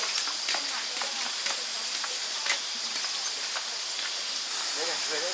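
Heavy rain pours by a stream in a continuous close hiss with scattered drops ticking, while people talk briefly over it.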